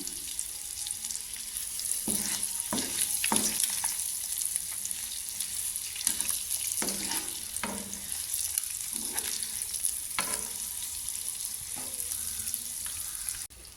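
Eggs fry in oil over a low flame for egg curry, giving a steady, close sizzle with occasional soft scrapes and stirring taps throughout.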